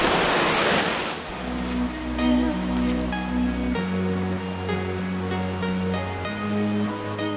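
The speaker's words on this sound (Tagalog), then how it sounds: "So, ito yung pang-apat na falls na nadaan namin." Ubod Falls near Mount Damas pours in a loud, continuous broadband rush of falling water. A low droning tone runs underneath the roar, and no one speaks.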